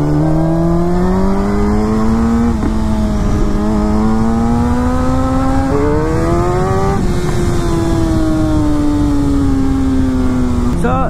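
A Suzuki GSX-R1000 sport bike's engine revs loudly and steadily close by, its pitch climbing in stages, then falls gradually as engine braking takes over.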